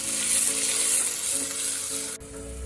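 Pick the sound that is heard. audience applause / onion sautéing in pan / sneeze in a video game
onion sautéing in pan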